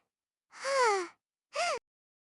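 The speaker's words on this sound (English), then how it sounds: "Birds sang in the rambutan trees." Birds in rambutan trees over a kampong at sunrise give two harsh, cawing calls, a longer one followed by a shorter one, close and clear against silence.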